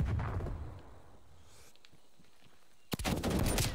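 Gunfire in a shooter video game, a burst of rapid automatic shots at the start, a quieter lull with faint scattered sounds, then a sudden loud volley of rapid fire near the end.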